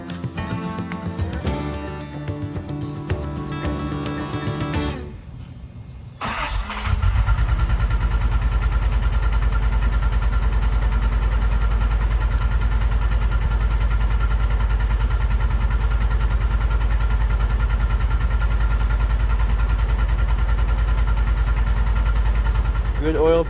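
A Datsun 280Z, revived after sitting dead for 21 years, cranks and catches, then runs roughly at a loud, steady idle for the rest of the clip. Some speech and clatter come before the start.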